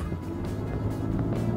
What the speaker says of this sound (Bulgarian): Има прекрасен звук този боксер.